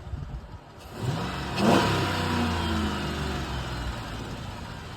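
A 2007 Chrysler 300C engine revs up sharply, its pitch climbing then settling into a steady, loud mid-range drone close by.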